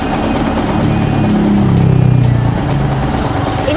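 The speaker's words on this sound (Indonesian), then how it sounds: "Mesin jahit ini asik, tanpa pedal" A Riccar 2200 digital sewing machine, run without a pedal on speed control, hums steadily with a mechanical whir that rises slightly midway, then settles back.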